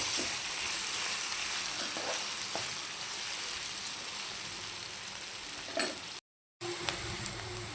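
Potatoes and ivy gourd fry in a pan with a steady, bright hiss that holds throughout, joined now and then by faint stirring knocks and one brief break, with no talk.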